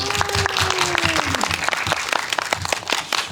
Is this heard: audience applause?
yes